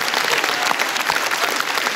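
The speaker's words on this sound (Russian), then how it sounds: "Можно встречать аплодисменты" Comedy club audience applauding, a steady moderate wash of many hands clapping with scattered sharper claps.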